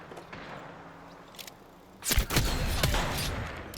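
Video game gunfire erupts in a sudden burst of rapid shots partway through, following a quieter stretch of faint game ambience and isolated pops, then continues as dense firing to the end.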